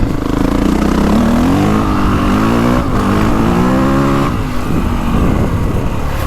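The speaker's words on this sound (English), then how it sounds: "Boy, that acceleration, just that connectivity to the rear wheel." A 2025 Honda CRF450R Works Edition dirt bike accelerating hard, loud close engine revving that rises in pitch, drops and climbs again through gear changes.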